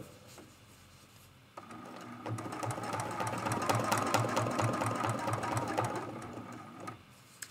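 A sewing machine quilting an art quilt runs in a fast, even stitching rattle for several seconds after a quiet start, then stops, close and moderately loud.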